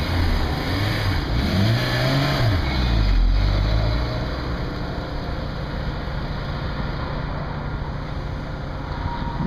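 A silver Honda S2000 with a stage 4 racing clutch revs and accelerates around a lot, its engine rising and falling in pitch over a steady, fairly close drone lasting nearly ten seconds.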